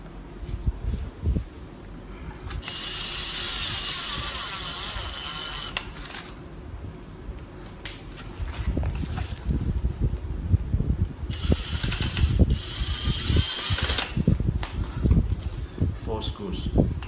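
Screws are driven by hand while a CD rack unit is put together, with repeated close ratcheting clicks and mechanical scraping, plus rustling and handling noise that come and go over several seconds.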